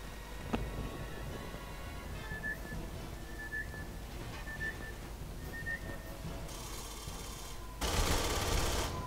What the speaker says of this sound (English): Oh shit, he's shooting.